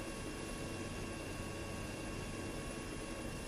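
A video-game close air support helicopter with no weapons drones steadily at a distance, a faint continuous rotor and engine hum with no change in level.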